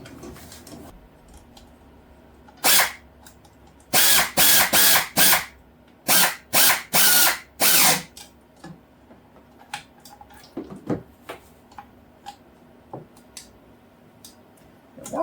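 A Milwaukee electric power tool driving bolts into a Hustler mower part: several loud, close bursts of whirring, each lasting under a second, with short gaps between them, then faint clinks and handling noises.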